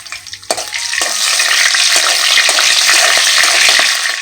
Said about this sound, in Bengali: এখন এগুলোকে ভালো করে নাড়াচাড়া করব